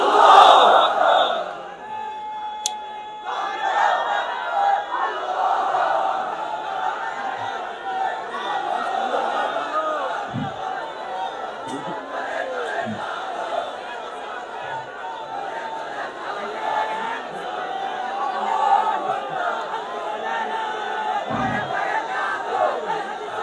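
A large crowd at an outdoor religious sermon roars a chanted takbir slogan in unison, a loud sustained mass of voices with rhythmic surges that swell and fade over the whole stretch.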